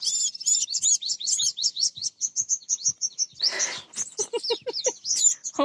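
Baby birds chirp on a rooftop in rapid, high, overlapping tweets, close and fairly loud, with a brief rustle midway and no voices.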